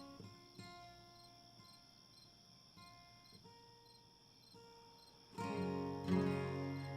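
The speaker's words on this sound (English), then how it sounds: "enough crickets" Crickets chirp in a continuous, high, steady trill that stays quiet for most of the stretch before swelling noticeably louder near the end.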